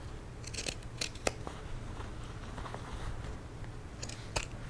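Pinking shears snipping through fabric for a sewn bucket hat: a handful of sharp, crisp cuts in quick clusters, fairly close and soft, over a steady low room hum with no talking.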